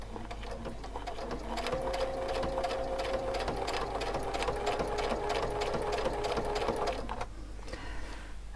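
A sewing machine stitches with metallic thread in a steady, even whir close by, running for about seven seconds and then stopping.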